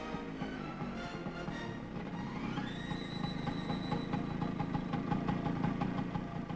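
A 1957 Vespa motor scooter engine idles with a steady buzzing rumble, and a rising whine climbs partway through as it revs slightly.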